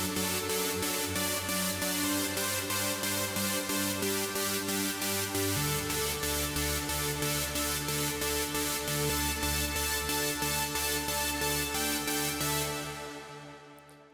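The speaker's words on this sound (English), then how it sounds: "I'm going to be showing you how to make this trance saw sound" A big trance supersaw synth patch made in Native Instruments Massive plays a sustained chord progression with a pulsing rhythmic gate and heavy reverb, loud and continuous before fading out near the end.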